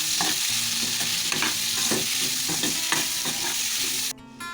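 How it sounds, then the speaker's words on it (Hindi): Onions frying in hot oil in a kadai, a continuous close sizzle with intermittent spoon scrapes and clinks throughout, fairly loud and without voices. "तो ये प्याज डाल देंगे इसमें हम, और इसको हम फ्राई कर लेंगे"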